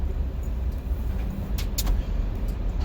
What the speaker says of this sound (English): Like I said, we're in the truck.